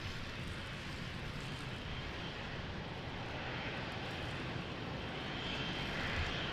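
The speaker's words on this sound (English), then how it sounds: "big boys taxiing here to holding position" Large airliners taxiing toward the holding position at Lisbon Airport, a steady broadband jet engine roar with no breaks, fairly distant and even in level throughout.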